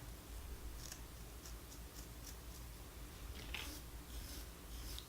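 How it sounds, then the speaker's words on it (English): Scissors snip deer hair while trimming the body of a mouse fly at a fly-tying bench, a handful of faint, sharp, close clicks spaced irregularly over a quiet hiss. "So now I'm just kind of trimming up here, give it a cute little body"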